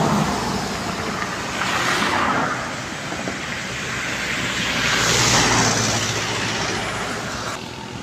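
A Volvo bus rolls past on a highway, a continuous loud roar of engine and tire noise swelling and fading as traffic streams by outdoors.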